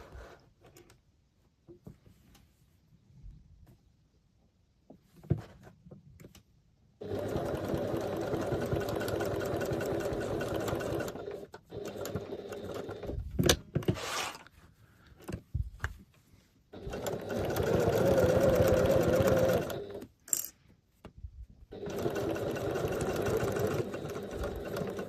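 A sewing machine stitches around a diagonal zippered frogmouth pouch, running in several sustained bursts of steady mechanical whirring separated by pauses and short handling noises, close and fairly loud.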